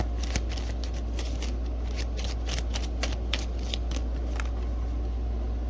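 Tarot cards riffle and slap together in quick repeated bursts, a steady crisp shuffling close up over a low constant hum.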